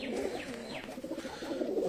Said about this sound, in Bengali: সব পায়রাগুলো দেখো খাঁচায় ঢুকছে